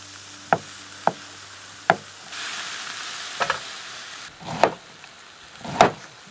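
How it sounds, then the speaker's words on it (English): Carrot, capsicum and mushrooms fry in a frying pan on a camp stove in the bush, giving a steady close sizzle broken by sharp knocks and scrapes as a utensil stirs the pan, with no talking. "frying up these veggies now. Carrot, capsicum in, mushrooms next."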